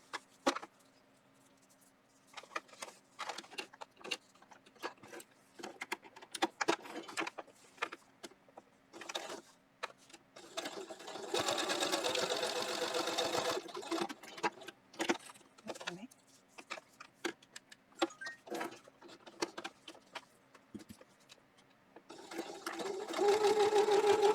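Sewing machine stitching an insulated tote, running in repeated short bursts with brief pauses and a longer steady run near the middle; close and clear, with small handling clicks between stitches.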